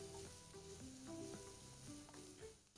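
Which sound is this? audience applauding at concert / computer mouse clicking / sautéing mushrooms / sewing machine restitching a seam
sautéing mushrooms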